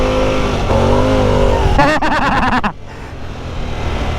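Harley-Davidson Pan America motorcycle engine revs hard and rises in pitch through quick gear changes, then drops off to a steady rumble with wind noise, loud and close.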